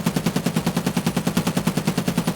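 SCAR-L rifle firing full-auto in Escape From Tarkov, a fast, even stream of about twenty loud, close shots in one sustained burst.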